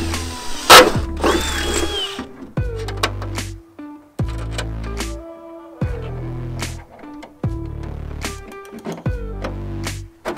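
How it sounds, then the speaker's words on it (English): A power drill drilling out mounting holes for an LED headlight, loud close bursts of whirring motor repeated about six times with short pauses between, no talk. "I'm going to drill out these holes."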